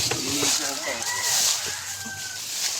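Chickens cluck and squawk nearby over a bright, noisy outdoor background, with a few short calls rising and falling.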